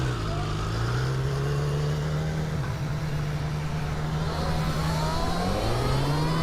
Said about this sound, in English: full throttle and hyper mode on the Toyota Komodo